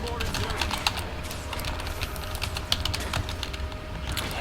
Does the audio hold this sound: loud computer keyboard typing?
yes